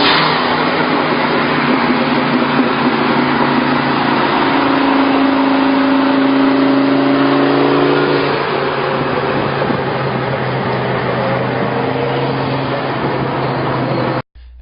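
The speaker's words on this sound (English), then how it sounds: "Listen to the turbo whistle as throttle is applied." A turbocharged Ford Mustang engine revs loud and steady under throttle, a rising turbo whistle climbing over the roar for several seconds before the note settles back and then cuts off abruptly.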